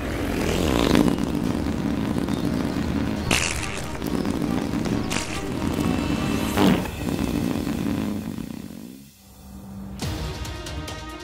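Cartoon car engine and exhaust sputtering and revving loudly in a continuous run, broken by sharp bursts, dropping briefly near the end before starting up again.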